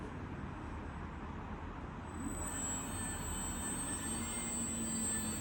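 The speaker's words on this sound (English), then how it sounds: "And we can see the motor is going to other direction." A Rawsuns READ4200Z 110 kW, 12000 rpm electric bus drive motor runs in reverse, a thin high whine that rises in pitch over a steady broadband rumble, constant and fairly close.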